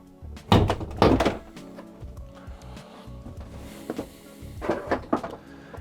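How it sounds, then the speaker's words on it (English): A plastic trim panel being pried off the inside of an electric van's door: a couple of loud hollow thunks and clunks up close, quieter rattling, then another burst of knocks. "this panel comes off just like the others"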